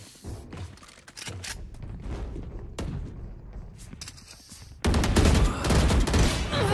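Vandal rifle gunfire in Valorant rings out in loud rapid bursts, with short pauses between volleys and a heavier, sustained stretch of shooting near the end.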